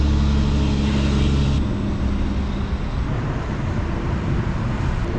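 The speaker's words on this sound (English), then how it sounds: "There's so many trucks." Heavy trucks rushing past on a freeway, a loud, steady roar of traffic close by with a deep engine drone that eases slightly after the first moments, no voices.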